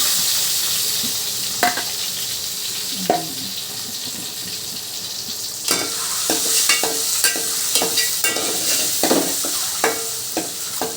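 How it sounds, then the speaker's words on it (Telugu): Eggs frying in hot oil with turmeric for an egg and dry prawn curry: a steady, close sizzle throughout, broken by a few sharp scrapes and knocks of stirring, with no voices. "పసుపు వేసిన తర్వాత అప్పుడు ఈ గుడ్లు దీంట్లో వేస్తాం."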